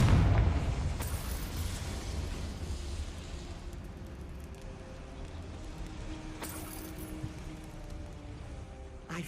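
A Confringo spell blast in Hogwarts Legacy gives a loud booming burst at the start, then a long rumbling decay with a steady low hum and scattered crackles over several seconds.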